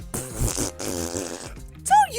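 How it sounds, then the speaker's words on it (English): A fart sound effect on a podcast: a sputtering, buzzy raspberry run through a medley, with voices and laughter around it and a rising squeak near the end. "Don't you put the fart sounds in the Hero Harp medley."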